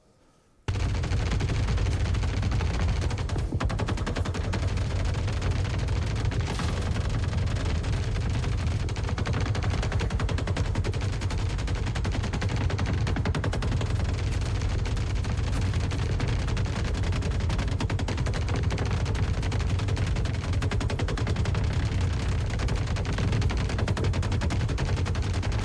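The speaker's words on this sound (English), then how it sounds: "here's some video of some test footage of AI shooting each other behind breakable cover and Maelstrom barrels" Sustained video-game gunfire from Star Citizen test footage of AI combatants shooting each other behind breakable cover and Maelstrom barrels, a loud, unbroken barrage of rapid shots and impacts that starts abruptly and continues for the whole span.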